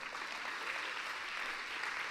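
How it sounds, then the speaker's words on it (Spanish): Faint, steady applause from a church congregation during a Spanish-language service, a soft even wash of clapping with no talk over it. "Un aplauso, por favor."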